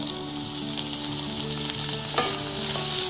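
Tomato pieces frying with onion and ginger-garlic paste in a pan for a curry, giving a steady close sizzle with a brief louder crackle near the end. No voices are heard.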